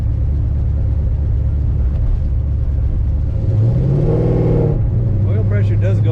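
The engine of a 1971 Chevrolet Malibu convertible rumbles at idle, then rises in pitch as the throttle is blipped and settles back, heard up close while a voice talks over it.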